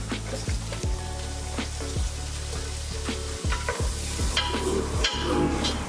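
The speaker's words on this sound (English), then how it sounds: "let's give that a couple of stirs, just to make sure that you coat all the onions equally with all the butter" Onions stirred in melted butter in a pan, a steady close sizzle and fry under repeated scraping strokes and knocks of the utensil, with no talking.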